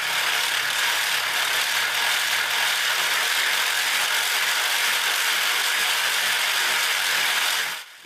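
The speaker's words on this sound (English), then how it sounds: "the yellow gears are rotating so fast that they just appear to be spinning, but they are actually rotating at an extremely high speed." A pericyclic gearbox runs with its gears spinning at very high speed, giving a loud, steady mechanical whirring rattle that continues unbroken before cutting off abruptly at the end.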